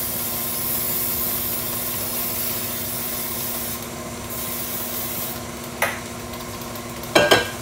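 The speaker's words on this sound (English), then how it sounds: "I'm going to spray it with the Pam baking with flour" Pam baking spray with flour hisses out of an aerosol can over a sink while coating a Nordic Ware fluted cake pan, a steady spray with a sharper burst near the end and short pauses.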